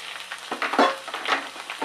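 Brief soft sizzle and scraping as tomato puree, onions, garlic and ginger are moved around a hot pan for tikka masala, a few close stirring strokes.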